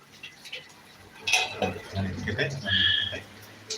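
A metal lid clatters and clinks onto a pot of dal curry, with a few short scraping knocks and a ringing chink near the end, heard close up while someone talks.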